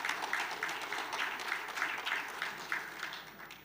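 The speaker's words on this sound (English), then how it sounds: "Can you give him a big round of applause" Faint, distant applause fills a conference hall at a governors' forum panel discussion as a guest comes on stage, with soft uneven clapping continuing throughout.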